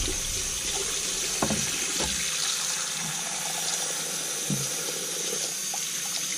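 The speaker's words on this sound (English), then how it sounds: "Rinse the top of our dressing stone off." Running water rinses the top of a dressing stone used for honing a razor, a steady faucet-like stream with a few brief splashes and knocks, fairly close and alone.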